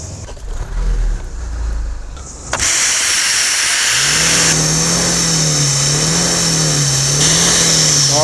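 A motor vehicle engine runs close by during an emissions test in New Zealand, first a low idle, then a loud steady roar with hissing exhaust and a wavering revving drone.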